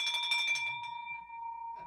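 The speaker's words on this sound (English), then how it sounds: "It's a new bell." A new celebration bell rung several times in quick succession, bright, crisp metallic strikes with a long sustained ringing tone that fades out, near and clear.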